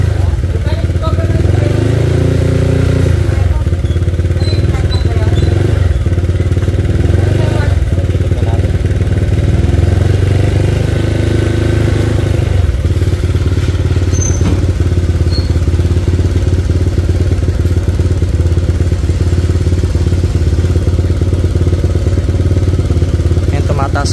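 A motorcycle engine, fitted with a Koso 4-in-1 RPM and water temperature meter, runs steadily close by and is revved in a few swells over its continuous drone, with some mechanical clatter.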